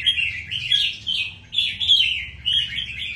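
Caged red-whiskered bulbuls chirp in a continuous stream of bright, high-pitched calls that rise and fall in short phrases, close and moderately loud with no voices.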